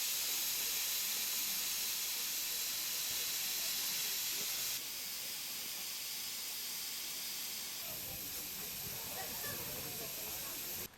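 Loud, continuous steam hiss from a heritage railway locomotive built in 1949, drawing original carriages, holds steady for the whole stretch with small shifts in level.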